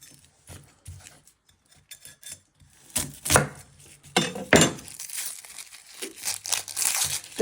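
A knife trims the ends off two shallots on a board, giving soft scattered rubs and crisp cutting scrapes, quiet at first and then denser and louder toward the end, with no talking.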